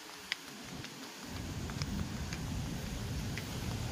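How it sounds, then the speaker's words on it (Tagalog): Steady outdoor drizzle, a fairly heavy misting rain, making a soft continuous patter and hiss with a few faint bird chirps above it, rising in level after the first second. "Yan, umambon na ulit guys. Ang malakas na ambon."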